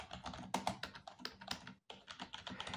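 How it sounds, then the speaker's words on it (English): Typing on a Redragon K503A-RGB gaming keyboard with soft, quiet keys: a steady run of close, muted key presses with a brief pause partway through, no talking. "this keyboard is very quiet and the keys are also quiet normally"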